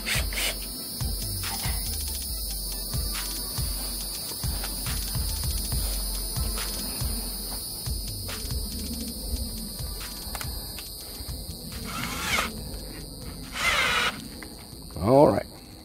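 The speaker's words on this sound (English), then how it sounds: "you want to apply even pressure as you drill" A power drill whirs steadily for most of the stretch while lapping an AR-15 upper receiver, with a mechanical rubbing grind underneath, ending in a brief rising whine.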